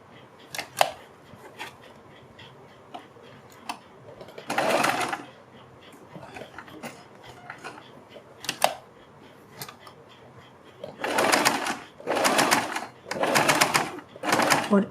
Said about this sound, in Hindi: फिर इधर भी हम बुकरम से थोड़ा आगे तक ये सिलाई लगाएंगे।